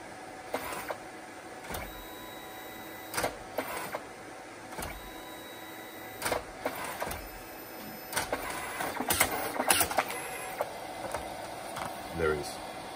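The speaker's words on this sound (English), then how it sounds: "And it's now going to print from the printer." A kiosk printer runs through a print job, giving a series of short mechanical whirs and clicks in uneven bursts, fairly close and moderately loud, with some faint background noise between them.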